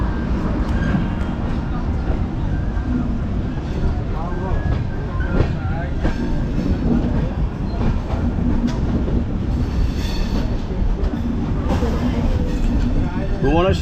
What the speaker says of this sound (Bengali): এই ট্রেন ছেড়ে বেরিয়ে যাচ্ছে ভুবনেশ্বর রেলওয়ে স্টেশন।